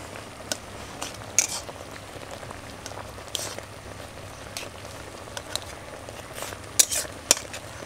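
A spatula presses boiled green mango pieces in a pan, giving a soft bubbling simmer with scattered light metallic clinks and taps against the pan.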